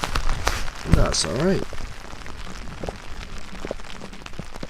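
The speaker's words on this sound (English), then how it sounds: "It's raining. It's always bloody raining in Yorkshire." Rain patters steadily on a tent on a drizzly, foggy Yorkshire morning, a soft continuous hiss close by, while a person speaks briefly over it.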